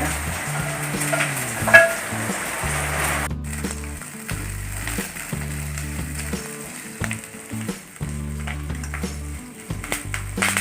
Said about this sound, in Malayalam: നമ്മുടെ ഇഞ്ചി ഇതാകത്ത് നന്നായി വാടിയിട്ടുണ്ട് നമുക്ക് ഇതിൻ്റെ കൂടെ തന്നെ നമ്മുടെ പച്ചമുളകും വെളുത്തുള്ളിയും അരിഞ്ഞ് വെച്ചിട്ട് കൊടുക്കാം അതുകൂടി ഒന്ന് വാടിക്കോട്ടെ